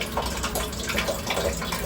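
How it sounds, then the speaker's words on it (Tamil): Water drains out through a cotton cloth while being strained during kozhukattai preparation, a close, steady trickle and gurgle with no voices. "ஆனா ஃபர்ஸ்ட் இந்த மாதிரி வந்து தண்ணி வடிகட்டிக்கலாம்"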